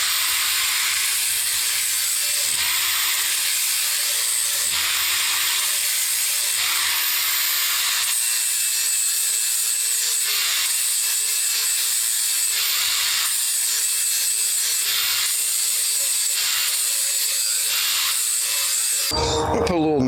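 Continuous high, hissy grinding as a worn lawnmower blade edge is flattened and sharpened, sustained with brief pauses and loud throughout, ending in a short burst of other noise.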